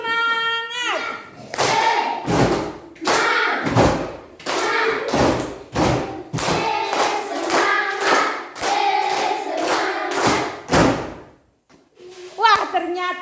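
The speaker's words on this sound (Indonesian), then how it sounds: "Tepuk semangat." Classroom group clapping a rhythmic tepuk semangat pattern, repeated bursts of loud close hand claps in clustered beats, mixed with children's voices chanting along.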